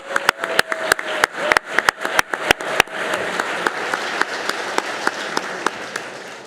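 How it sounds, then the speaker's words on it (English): An audience at an awards celebration claps for two young speakers. A few sharp, distinct claps ring out first, then a fuller round of applause joins in and holds steady, with a faint voice underneath. "I just think they deserve an extra round of applause."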